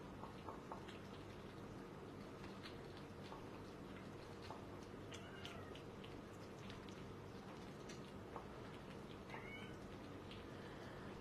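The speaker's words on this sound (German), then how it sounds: "Der miaut richtig." A cat meows outside a front door wanting to come in, faint repeated cries scattered over a quiet, slightly noisy background with no talking.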